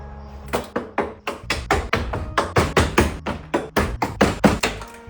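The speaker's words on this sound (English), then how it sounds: "You hear that crunch? That was rust." A rusty, worn-out door gives a run of about sixteen sharp, evenly spaced crunching knocks, close and loud, with no talking.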